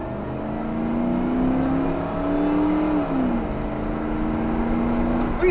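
A 1990 Ford F-150 pickup engine held in first gear, a steady loud drone whose pitch rises gradually, dips sharply near the midpoint, then settles and holds, running continuously with no talk over it.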